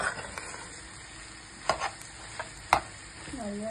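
Egg being stirred into pasta in a frying pan, with a few soft scraping clicks of a utensil against the pan over a faint sizzle, close and quiet, no talking.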